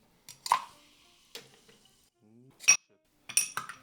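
Ice cubes dropped into a glass with a splash of soda for a Campari cocktail, a few sharp clinks and knocks spaced apart, close and fairly loud against near silence.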